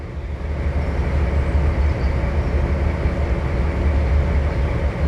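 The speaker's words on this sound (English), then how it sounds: "We take our diesel locomotive and go" Diesel locomotive hauling a long consist of wagons in a train simulation game, a steady loud rumble and rolling rail drone that runs unbroken throughout with no talk.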